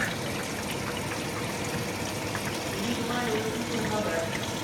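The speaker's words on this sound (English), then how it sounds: "The water's filling up." Water pours into the drum of a Speed Queen top-load washer as it fills, a steady rushing hiss that goes on without a break while a person talks over it.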